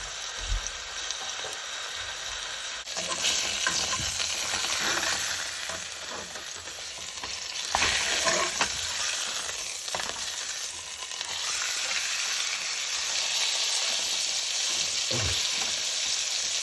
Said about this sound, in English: 3 minutes on both sides on medium high. So you will get a nice sear